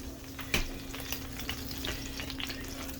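Sauce sizzling and frying in a pan on the stove: a steady, fairly quiet crackle and hiss with small pops and the occasional scrape of stirring, heard up close with no talking.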